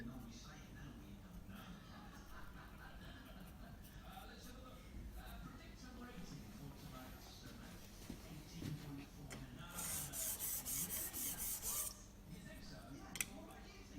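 A steel chisel blade honed on a sharpening stone, its back and bevel rubbed in turn to remove the burr, giving steady abrasive scraping strokes with a brighter rasping burst near the end.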